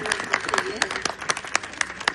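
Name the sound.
audience applause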